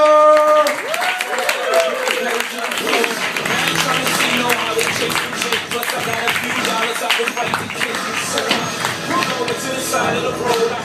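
A comedy club audience breaks into sustained applause for headliner Aaron Foster, a steady wash of clapping with cheers mixed in and a voice speaking over it.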